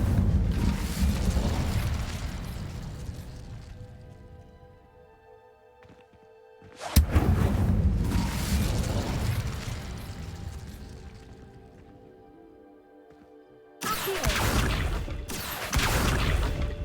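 In the Hogwarts Legacy video game, the Incendio fire spell bursts out in loud, roaring whooshes of flame that fade slowly. Three blasts in all, each rising sharply and then trailing off.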